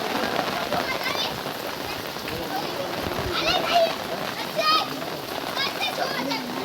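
Knee-deep floodwater in a flooded residential area is churned and splashed, producing continuous close watery splashing and rushing, with voices talking throughout.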